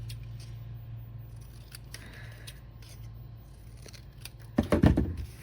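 Scissors snip through paper while trimming a matchbook-style notepad, quiet shearing at first, then a louder cluster of close, crisp cuts near the end.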